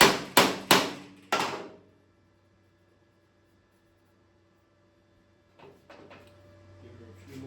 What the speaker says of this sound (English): I gotta beat this off. This little metal piece